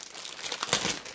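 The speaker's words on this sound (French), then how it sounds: "Les papiers sont pas discrets du tout." Paper wrapping crinkles and rustles as a cross-stitch unboxing package is opened by hand, a close, brief burst of crisp crackling.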